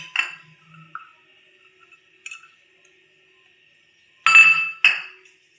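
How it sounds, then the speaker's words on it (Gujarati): A spoon stirring melon ice cream topped with cashews, almonds and tutti frutti in a half-filled glass, giving a few sharp, bright clinks spaced apart, with two quick ones near the end, in otherwise quiet surroundings. "આવી રીતે આપણે ચમચીની મદદથી હલાવી લેશું."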